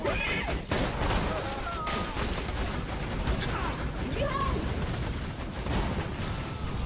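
Rapid gunfire from the video game Borderlands 2 crackles in dense, overlapping bursts, loud and nearly unbroken, with sharp shots and brief high-pitched effects layered over the barrage.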